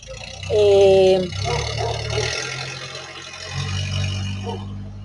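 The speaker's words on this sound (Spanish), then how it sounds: "hace mucho ruido ese carro." A car engine runs nearby with a low rumble and rattle that swells, fades, then returns, while a person speaks over it.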